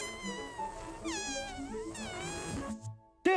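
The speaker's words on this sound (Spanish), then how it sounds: "¡Gato!" A cat meows several times in long, wavering calls over soft background music, ending in a sudden brighter cry in a Spanish-language Teletubbies episode.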